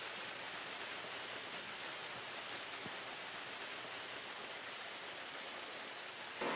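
Water rushing steadily from a tall waterfall, a dense unbroken roar of spray and falling water heard close by, with no voices over it.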